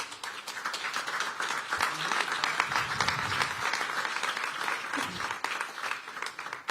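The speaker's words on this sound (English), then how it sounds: "Let's start this with a round of applause," Sustained applause from a large audience, dense steady clapping throughout, with a faint voice briefly audible underneath.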